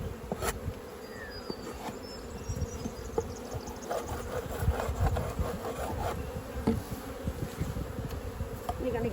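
Honeybees buzzing around an open apiary hive, a continuous close, fairly quiet drone with scattered louder passes and light handling noises.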